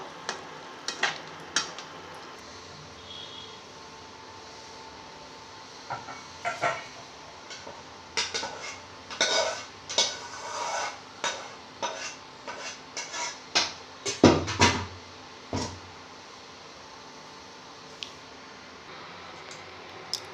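Spicy okra cooked in mustard oil being served from a pan onto a plate: scattered metallic clinks and scrapes of a spoon against cookware, in irregular clusters over a low background hiss.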